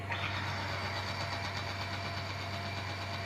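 A car engine treated with Polytron friction-reducing additive runs steadily at idle, a continuous close, even hum with a faint rough texture and no talk.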